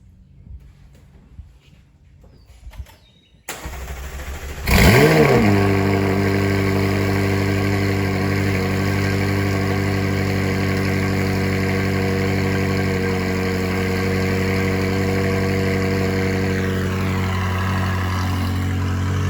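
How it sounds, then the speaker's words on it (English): A McLaren sports car engine cold-starts with a sudden loud roar, then settles into a steady, rumbling, high idle that holds close and loud to the end. "I'm gonna give y'all a little cold start video"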